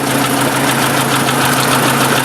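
A 1954 Ford Jubilee NAA tractor engine just after a cold start runs loud and close, a rough steady idle with knocking vibration, no voices.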